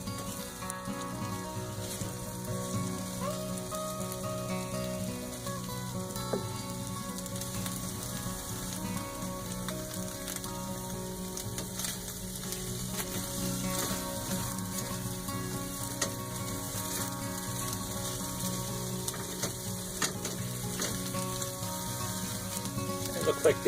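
Scrambled eggs and sausage sizzle and crackle steadily in a frying pan, a continuous close frying hiss with occasional stirring, no talk over it.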